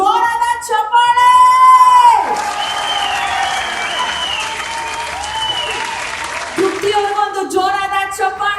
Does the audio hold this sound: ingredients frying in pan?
no